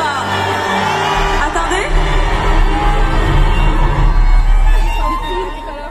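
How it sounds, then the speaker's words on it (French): A large concert crowd in Strasbourg shouts and cheers continuously, a loud roaring wash of voices that swells toward the middle and stays dense throughout. "Je vous entends crier un peu."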